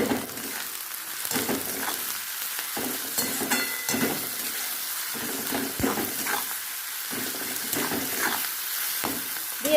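Begmati chicken frying in a pan over a high flame, a steady sizzle broken by repeated stirring scrapes at a fairly even rhythm, close and moderately quiet with no voices.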